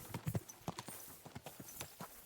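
Horse hooves clip-clopping at a steady walk in the medieval game Kingdom Come: Deliverance II, a quick series of soft, irregular strikes, faint against background ambience.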